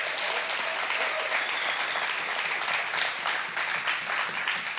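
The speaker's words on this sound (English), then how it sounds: "can we give Kurt a round of applause?" A church congregation at a Sunday service applauds guest speaker Kurt; full, continuous clapping from many hands stays loud and steady from start to finish.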